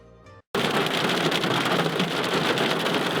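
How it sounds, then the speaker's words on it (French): Hail pours down on an outdoor film set in northern France, a dense, loud, steady hiss and patter that starts abruptly after a brief moment of near-silence and keeps going without a break. "On a de la grêle maintenant, on part s'abriter entre deux plans."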